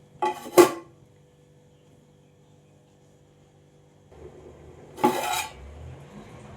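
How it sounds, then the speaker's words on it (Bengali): A metal lid is set onto a cooking pot of mutton gravy: two separate clattering clanks of metal on metal, a few seconds apart, with a low steady hum and quiet kitchen noise between them. "এবার পানিটা দিয়ে আমি এটা ঢেকে দেবো ভালো করে যতক্ষণ না ফুটছে।"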